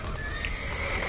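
Horses in The Witcher video game let out a brief neigh over a dense, noisy background of game sounds, the whinny faint and partly masked.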